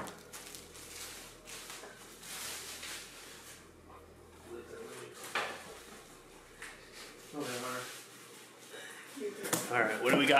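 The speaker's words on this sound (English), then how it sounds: "Let's get the other lid out of the way." Calphalon Premier stainless steel cookware lid lifted out of its box during unboxing, with soft rustling of packaging, light scraping and a few metallic clinks, quiet and close, with a person talking at times.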